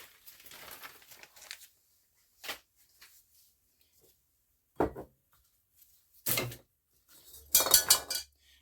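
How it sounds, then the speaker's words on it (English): Scraping and clinking sounds from a metal pot of melted candle wax being stirred, coming in irregular bursts separated by quiet gaps, with a louder rattling cluster near the end. "So I'm going to try to give this a stir and move some of this stuff out of my way."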